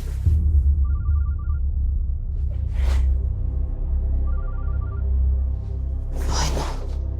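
A mobile phone ringing nearby, two short electronic ring bursts spaced a few seconds apart over a loud low rumble, with rustling noises in between.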